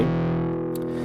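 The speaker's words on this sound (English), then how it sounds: "Now this on the output, the post, will control the brightness of the distortion" Distorted synth tone from Omnisphere 2 with a low-pass filter, a steady buzzy sustained note holding at even loudness throughout, alone with no talk.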